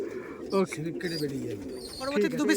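Two male Madras pigeons coo in low, rolling phrases at close range while someone talks over them in bursts.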